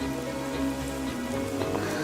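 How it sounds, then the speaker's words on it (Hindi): Steady rain falls throughout, a dense even patter of drops striking surfaces at close range, continuous and unbroken with no voices. "और करेक्ट टाइम पे बरसात हो गई।"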